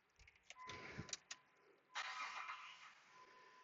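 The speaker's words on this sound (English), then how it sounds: "let me crank the car" A 2005 Jeep Grand Cherokee engine cranks in a few short bursts, then catches and starts, settling into a steady running hum; the sound is fairly quiet and no one speaks.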